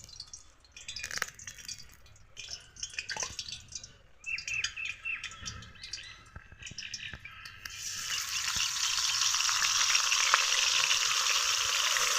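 Mustard oil sizzles in a hot wok as chapila fish fry, a loud, steady crackling hiss that takes over partway through after a stretch of birds chirping nearby.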